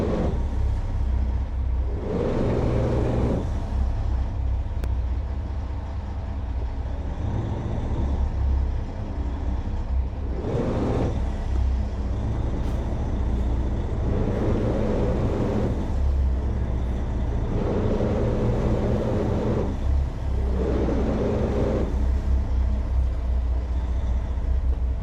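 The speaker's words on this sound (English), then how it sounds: "What these big hydraulic thrusters can do for you." Big hydraulic bow thrusters on an Endurance 680 motor yacht by Hampton Yachts run in repeated strong, droning bursts over a steady low engine rumble, with gusty wind throughout.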